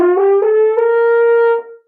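French horn slurring up an octave on the first valve, a single sustained brass tone that steps through several harmonic pitches before settling on the upper note, played alone and close.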